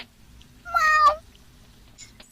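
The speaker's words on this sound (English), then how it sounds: "she meowed in her sleep" A single clear cat meow, close and fairly loud, rising then falling, in otherwise quiet surroundings.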